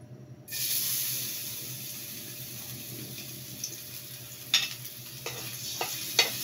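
Garlic starts sizzling the moment it hits a little oil, settling into a soft, steady hiss with a few scattered clicks and scrapes from stirring.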